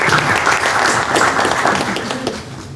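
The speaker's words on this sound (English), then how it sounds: "Please round of applause to Sam." A startup-community lunch-and-learn audience applauds a speaker's introduction with a loud, dense burst of clapping that stays steady before easing off slightly at the end.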